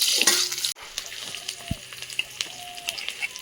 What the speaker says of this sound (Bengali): সবার প্রথমে দেবো পেঁয়াজ কুচানো